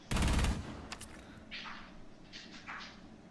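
Rainbow Six Siege gameplay opens with a loud, rapid burst of automatic gunfire lasting about half a second, followed by a single quick shot and softer scattered in-game sounds, no voices present.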